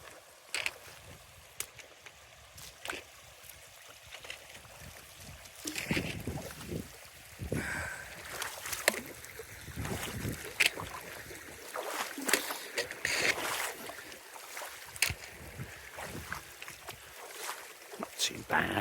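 A hiker wearing gaiters wades across a Highland stream on a trail, with splashing water and rushing flow that grow louder midway, set against steady outdoor ambience and light wind.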